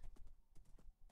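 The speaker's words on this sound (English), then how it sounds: "so we're just riding the horse down here" Horse hooves clip-clopping in the Minecraft video game as the horse is ridden over grass, a quick run of soft, evenly spaced thuds heard up close with no talking.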